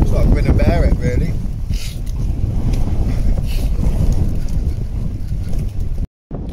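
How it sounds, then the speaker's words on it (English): Strong gusty wind buffeting the microphone at a wild camp in gusts up to about 35 mph, a loud continuous roar and rumble that carries through the whole stretch with a brief dropout near the end; a voice talks faintly underneath. "What do you do, eh, about the wind?"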